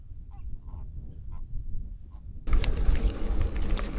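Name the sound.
pink flamingos calling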